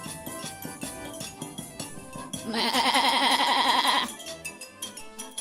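A goat lets out one long, wavering bleat, loud and close, set against a light musical backdrop during a stage performance of the folk tale Koza-Dereza.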